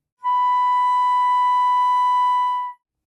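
A flute sounds a single clear, steady B natural in the second octave, held for about two and a half seconds with a clean onset and gentle release, alone and close.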